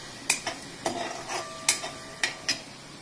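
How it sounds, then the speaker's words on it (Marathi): Finely chopped onion and ginger-garlic paste sautéed in a kadhai for pav bhaji, with a steady soft sizzle broken by several sharp spatula scrapes and taps against the metal. "कढईमध्ये बारीक कापून घेतलेला कांदा आणि आलं लसूण पेस्ट"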